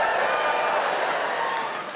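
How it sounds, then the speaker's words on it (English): A live comedy theatre audience of couples cheers loudly, a broad steady roar of whoops and crowd noise sustained for about two seconds before tapering slightly. "Give us a cheer, all the couples in."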